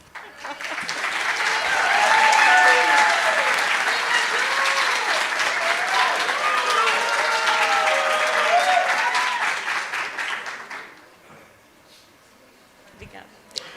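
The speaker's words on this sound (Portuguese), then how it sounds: "uma salva de palmas, Adriana e todos" Loud audience applause fills a conference hall at the close of a panel session, a dense wash of clapping that swells near the start, holds steady for about ten seconds, then fades into quiet room tone with a few stray claps.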